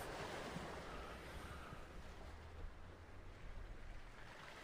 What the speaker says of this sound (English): I'm working with the ocean waves now.